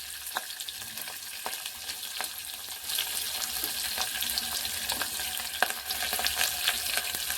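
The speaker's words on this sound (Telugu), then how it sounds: "ఒక ఉల్లిపాయలు వేగనిద్దాము." Onion pieces frying in a pan while cooking a lentil rasam, giving a continuous close sizzle that grows a little louder partway through, with scattered light clicks and scrapes and no speech.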